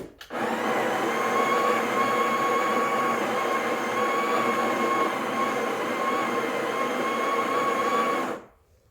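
A Breville Barista Express BES870 grinds coffee beans in one steady, loud, close burst of whirring motor noise lasting about eight seconds, starting and stopping abruptly.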